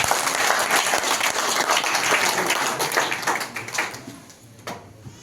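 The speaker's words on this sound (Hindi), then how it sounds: "तो बताओ ताली फिर मिलेगी 24 घंटे।" Crowd applause at an Aam Aadmi Party political rally, dense sustained clapping from many people that swells and then thins out toward the end, with a single sharp clap near the finish.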